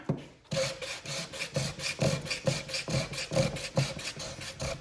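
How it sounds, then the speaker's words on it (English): Wet sanding a Glock pistol frame by hand with 600 grit sandpaper: a steady, rhythmic back-and-forth rasping scrub, about two strokes per second, close and moderately loud with no talking. "I'm gonna take the 600 grit and wet sand just a little bit on it, just to make this a little bit smoother of a cut."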